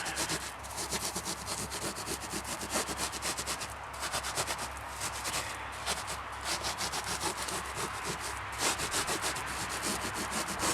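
Borax powder being rubbed by hand into a deer tail hide, a steady close scrubbing and rasping friction that continues without pause, with no talking.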